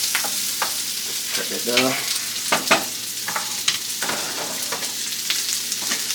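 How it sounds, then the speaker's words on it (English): Seafood searing in a hot pan for a seafood boil meal, crackling sizzle with scattered pops and clinks, someone talking briefly over it. "you just want to just get a little sear on them"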